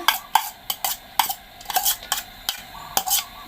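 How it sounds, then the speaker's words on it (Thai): Chopped onion stirred in a pan of melted salted butter, with a utensil tapping and scraping the pan in quick, irregular clinks over a soft background sizzle, close and without speech. "แล้วเราก็นำหอมหัวใหญ่สับค่ะลงไปผัดเลยนะคะ"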